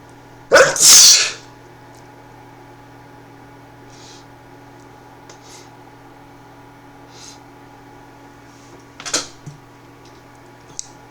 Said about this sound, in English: Sorry, I sneezed a little bit.